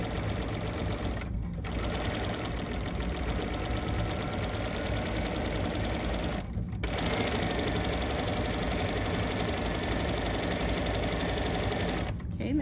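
Bernina sewing machine stitches during couching, a close, steady rapid mechanical whir and needle chatter running continuously, broken by a few brief pauses of near silence, with no talking.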